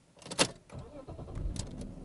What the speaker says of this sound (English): start the car just like that